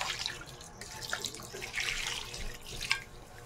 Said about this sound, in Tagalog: Lagyan po natin ng tubig. Cold water po dapat, ha?